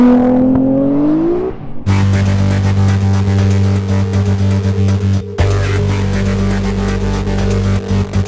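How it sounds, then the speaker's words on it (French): A small Audi race car with a full roll cage idles loudly close by on a racing circuit, its deep steady engine throb broken by a brief cut before it resumes, with no talk. "on a cette petite Audi, voilà, très sympathique, full block, qui est venue nous rejoindre sur le circuit"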